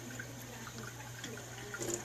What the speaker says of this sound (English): run it under some water till it runs clear